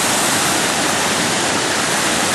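A creek rushing past a log crossing, loud and close, a dense continuous roar of flowing water with no breaks.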